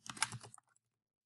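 A quick, quiet run of keystrokes on a computer keyboard while text is typed into a box on a PDF document, a handful of clicks ending in silence.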